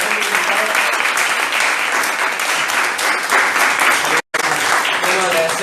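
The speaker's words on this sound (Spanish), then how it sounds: "queremos darle un fuerte aplauso entonces" Loud, dense audience applause at a university talk on abortion, a steady wash of many hands clapping close by for several seconds, broken by one brief dropout before resuming.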